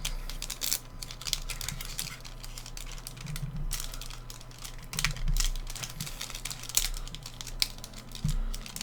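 Plastic wrappers on 1991 Upper Deck football card packs crinkle and tear close by in a run of sharp, irregular crackles and clicks, with steady background hum underneath.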